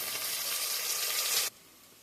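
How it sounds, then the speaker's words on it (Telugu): Onions and green chillies fry in hot oil while being cooked to golden brown for Andhra kushka, giving a loud steady sizzle that cuts off abruptly, leaving a quieter hiss. "ఆనియన్స్ అయితే గోల్డెన్ బ్రౌన్ కలర్లోకి వచ్చేవరకు బాగా వేయించాలి"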